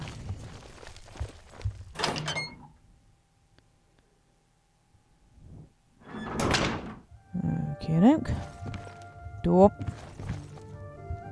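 A door in The Elder Scrolls IV: Oblivion thuds, then after a silent pause another door opens with a heavy rush and creaking, followed by footsteps and clunks; someone speaks briefly over the first part.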